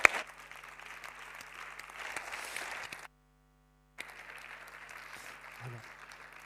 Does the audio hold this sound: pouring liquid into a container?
no